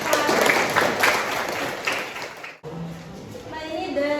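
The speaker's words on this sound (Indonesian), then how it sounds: "Tepuk tangan untuk" A classroom group of students claps together, dense applause for about two and a half seconds that cuts off abruptly, followed by quieter room sound and a voice speaking.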